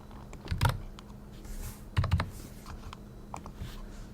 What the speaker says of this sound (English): To open it, you can just type here Remina, and that would open it.